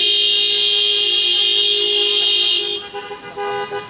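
A car horn blares in a long sustained honk for nearly three seconds, then gives a few shorter toots, loud and close at a parade of decorated vintage and modern cars.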